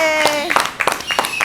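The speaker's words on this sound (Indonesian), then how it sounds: "boleh dong tepuk tangannya untuk kita semua" Audience clapping hands at a casual political talk show with young party members, a short burst of sparse, separate claps over a speaking voice.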